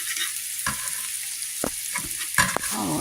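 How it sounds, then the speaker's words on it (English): Garlic stirred into caramelized onions in a hot frying pan, a steady close sizzle broken by a few sharp scrapes and clacks of the utensil against the pan. "for about a minute, I'm going to stir the garlic up in"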